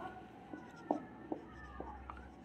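A pen writes by hand on paper, with a few soft, scattered scratching strokes, faint and close, over quiet room tone.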